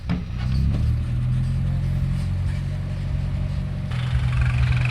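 A tractor engine runs at a steady low drone as it is driven, a close, loud mechanical hum that shifts slightly in tone near the end.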